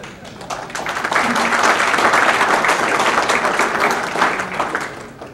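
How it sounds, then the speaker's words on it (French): An audience at a formal speech claps, the applause swelling from a thinner start into a full, sustained roar of many hands, with a faint murmur of voices mixed in. "Je sens une certaine hésitation dans ces applaudissements"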